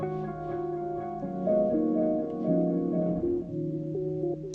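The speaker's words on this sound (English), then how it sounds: "say you wanted to draw in like the feedback going up and then cutting off really hard" Feedback-like electronic drone in Ableton Live, stacked sustained tones stepping through shifting pitches at steady loudness for several seconds before a sharp burst and abrupt hard cutoff at the end.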